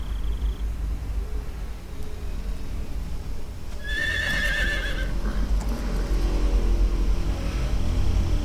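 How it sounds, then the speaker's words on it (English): A horse in the video game Metal Gear Solid 3 gives one clear whinny partway through, over a steady low rumble of background game ambience. "Caballo."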